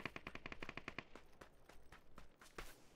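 Rapid bursts of gunfire in the PUBG battle royale game: a fast automatic volley of close, evenly spaced shots for about a second, then scattered quieter single shots and more distant reports.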